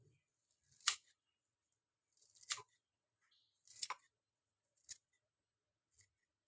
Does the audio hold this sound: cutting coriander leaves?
yes